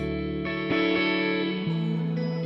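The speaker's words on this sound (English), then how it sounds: "in the chorus there's these little ooh backing vocals like this" Soft sustained "ooh" backing vocals, heavily processed with effects, holding chord tones that shift a few times, steady and moderately loud.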